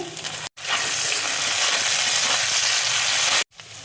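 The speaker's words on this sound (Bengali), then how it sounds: "হালকা করে দেখো আমি ভেজে নেব। কাঁচা লঙ্কা কুচি দেখো দিয়ে দিচ্ছি।" Chopped green chillies hit hot oil in a pan for a quick Bengali bread breakfast, bursting into a loud, close, continuous sizzle that holds for about three seconds before cutting off abruptly.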